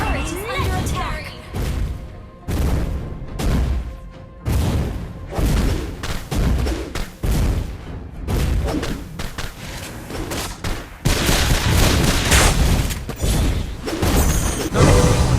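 Repeated gunfire and heavy thuds from the mobile game Bang Bang as a turret comes under attack, loud bursts of shots and booms in rapid irregular clusters, dense and close throughout.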